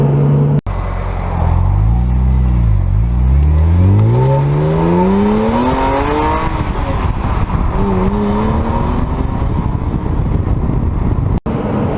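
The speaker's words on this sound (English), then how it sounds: "this has the AC Schnitzer exhaust, and you really have a great sounding car" A BMW M Coupe with the S54 engine and an AC Schnitzer exhaust revs hard through rising gear pulls, a loud, close, raspy straight-six wail climbing and dropping between shifts.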